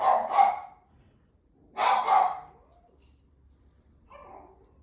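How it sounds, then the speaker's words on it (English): A dog barks at kittens nearby in two sharp, loud bursts, followed by a fainter third bark after a pause, with quiet in between. "Excuse my dog, it's just seeing the kittens."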